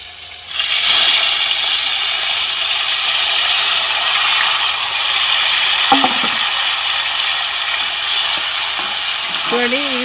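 Tomatoes dropped into hot tempering oil set off a loud, steady sizzle and hiss that carries on for several seconds, with a few stirring clinks and a brief voice near the end.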